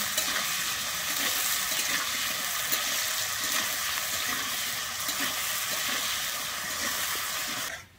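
Potatoes frying with salt in hot oil, a steady, even sizzle that carries on unbroken at moderate volume and cuts off abruptly at the end, with no talk over it.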